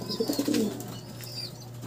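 A racing pigeon coos a soft, low warbling call up close, then falls quiet against a steady low hum.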